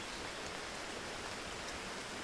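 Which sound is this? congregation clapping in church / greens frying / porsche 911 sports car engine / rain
rain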